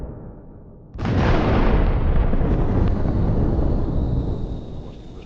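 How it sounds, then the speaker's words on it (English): A sudden heavy blast erupts after a moment of quiet, then a long roaring, rumbling wash of noise from exploding armored personnel carriers in a stalled military convoy, loud and sustained before slowly fading. "The stopped APCs explode."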